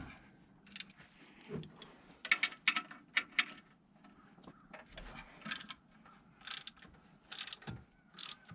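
Wrench loosening the bolts that hold the belt tension on a GM Harrison R4 AC compressor in a 1988 Chevy Suburban, quiet ratcheting clicks and small metallic knocks in short irregular bursts, close by, with no talking.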